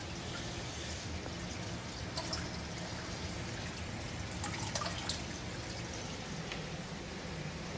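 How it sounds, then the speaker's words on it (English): Water with live copepods swirls inside a bottle beside a Red Sea Reefer 350 aquarium, a soft continuous sloshing with faint drips, quiet and close. "And now I'm just swirling it a little"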